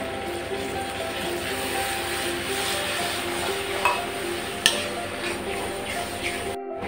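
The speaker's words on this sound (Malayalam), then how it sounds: "അത് തിളച്ചു വന്നിട്ടുണ്ട്." Chicken masala with half a glass of added water simmering and boiling in a pan, a steady close bubbling hiss that runs through the whole stretch, with a couple of brief knocks and a sudden cut at the end.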